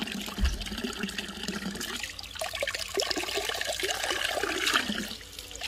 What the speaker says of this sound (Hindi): चौबीस घंटे पानी बहता है।